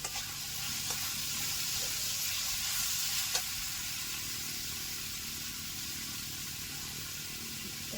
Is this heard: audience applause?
no